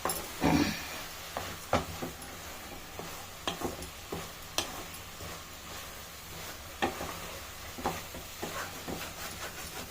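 A thick coconut sweet mixture is stirred in a pan, giving soft, irregular scrapes and taps of the spoon at close range over a faint, steady sizzle, without talk.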